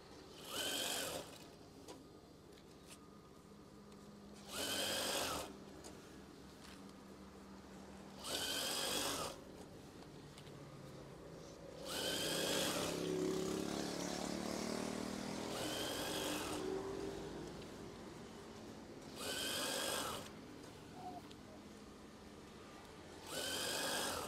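A sewing machine stitches an eyelet swag curtain in six short, even bursts spaced a few seconds apart, each run of stitching rising clearly over a quiet room hum.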